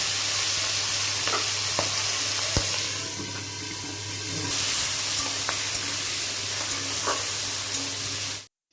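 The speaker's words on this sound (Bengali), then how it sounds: "এরপর কেটে ধুয়ে রাখা পেঁয়াজ কুলিগুলি এর উপর দিয়ে দিন, দিয়ে ভাজতে থাকুন।" Chopped spring onions frying in a pan, a steady loud sizzle with a few sharp stirring knocks and a background hum, ending abruptly.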